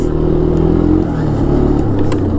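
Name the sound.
1983 Yamaha Tri-Moto 200 three-wheeler engine revving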